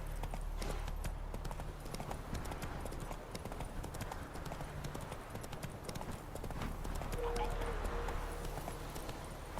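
Horse hooves clip-clop steadily at a riding pace in the video game Witcher 3, a close rhythmic clatter under ambient game sound with a person talking over it.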